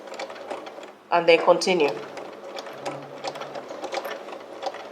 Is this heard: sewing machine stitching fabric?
yes